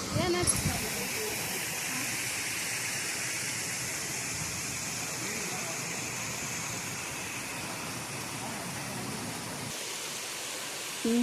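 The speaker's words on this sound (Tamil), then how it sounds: "இது மேலே வழிகிற இந்த தண்ணி எங்கே போகுதுன்றதை காமிக்கிறேன் பாருங்கள்" Water overflowing from a lake spillway in Vellore, a steady broadband rushing roar that continues evenly throughout and ends with a brief change near the close.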